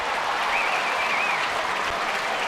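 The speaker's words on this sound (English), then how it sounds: "There will be a buzz from the crowd all day" Crowd at Yankee Stadium during a 2017 baseball game between the Yankees and Royals, a loud continuous roar of clapping and cheering with a brief whistle near the start.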